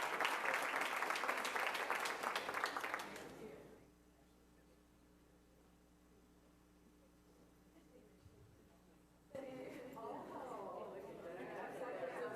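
Crowd at a school board meeting applauds, a loud dense burst of clapping that fades out, then near-silence with a faint hum before voices and murmuring pick up.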